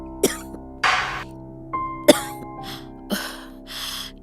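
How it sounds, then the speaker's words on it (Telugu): Someone coughs repeatedly, about six separate harsh coughs spaced irregularly, close and fairly loud, with no talking in between. "నీకు సడన్ గా ఎందుకు ఇంత దగ్గు వస్తుంది"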